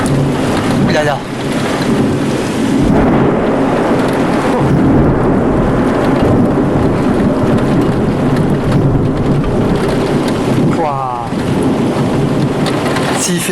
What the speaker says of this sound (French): S'il fait plaisir cet orage, vraiment il pète toutes les 2 secondes.